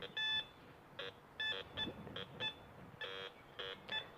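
A metal detector gives a jumpy signal: short, erratic electronic beeps in uneven bursts, some brief and some held longer, fairly faint over a quiet background, with no talking.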